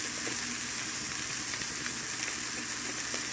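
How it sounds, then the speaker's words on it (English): Hamburger meat and minced onion frying in a pan, a soft continuous crackling sizzle with faint spits and pops, steady and close, with no voices. "we'll toss in some more of the minced onion. And let this just continue to fry up"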